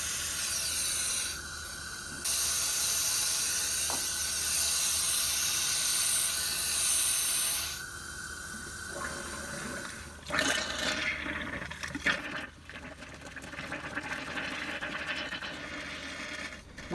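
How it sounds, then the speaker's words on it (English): Compressed air forces the remaining coolant out of a Dodge Dart cooling system, a loud steady hiss with gurgling, sputtering liquid bursts that turn choppy and bubbly later on. "it runs pressure into the coolant bottle and it blows the remaining coolant out of the system"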